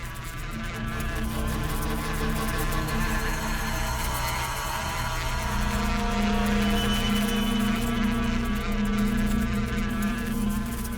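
Honeybees swarm around a beehive in a forest, making a dense, steady buzzing drone that stays loud and unbroken throughout, with no voices.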